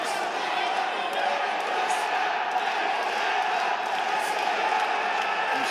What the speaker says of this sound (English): he's got this crowd right behind him